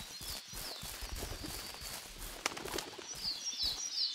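Birds chirp in short, high tweets in the Hunting Simulator 2017 video game, scattered over the clip against soft outdoor ambience with footsteps and rustling.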